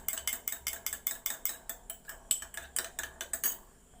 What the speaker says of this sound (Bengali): দইটা আমি ভালো করে কোনোভাবে ফেটে নেব